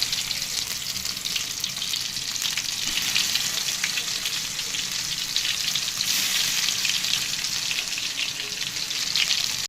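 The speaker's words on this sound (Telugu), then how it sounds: "స్టవ్ మీద కళాయి పెట్టుకొని 2 గంటలు నూనె పోసుకోవాలి. నూనె అయితే బాగా కాలిపోయింది. ఆ నూనెలో మనం చేప ముక్కలు వేసుకోవాలా." Fish pieces fry in hot oil in a kadai with a loud, dense, continuous bubbling sizzle that holds steady from start to finish.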